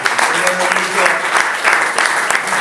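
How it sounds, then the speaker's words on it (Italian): Audience applause at a sports presentation event in Cuneo, dense continuous clapping from a crowd filling the room, with voices mixed in underneath. "Intanto un applauso a Gigi."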